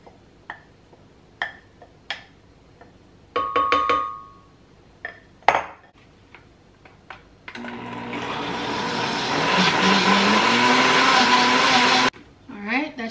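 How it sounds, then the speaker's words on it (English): Several clicks and clunks, then a blender whirs loudly for a few seconds, its pitch shifting as it purees sorrel fruit, before abruptly stopping. "So let's add it to the blender now."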